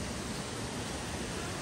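Steady, dense rush of falling water from a waterfall at an Australian outdoor spot, broadband and unbroken throughout, heard close and fairly loud with no other sounds standing out.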